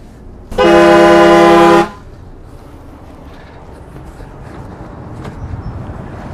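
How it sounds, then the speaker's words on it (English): One long, loud blast of a motorhome's air horn on a 2020 Newmar Dutch Star 4369, nearly a second and a half, very close, followed by quiet ambient noise. "We have air horns."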